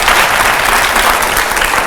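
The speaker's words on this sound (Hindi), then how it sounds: "पहले तो जोरदार इसके लिए तालियां होनी चाहिए" Loud audience applause breaks out during a televised interview with a politician, a thick, continuous burst of many hands clapping with a faint murmur of the crowd underneath.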